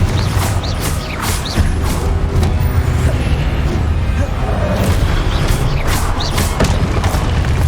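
Repeated Confringo fire spells burst in Hogwarts Legacy combat, loud booming blasts with crackling bright impacts over a constant dense rumble of battle, several hits spread across the stretch with no talk.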